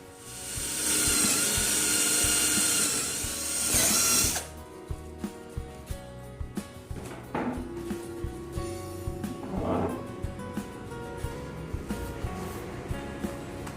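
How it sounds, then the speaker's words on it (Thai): Power drill boring a small hole under a DIY chair seat covered in PVC leather: a loud steady whine for about four seconds, then a quieter stretch of rhythmic mechanical clicking and tool handling. "เราต้องเจาะรูใต้นี้นิดนึงนะครับ"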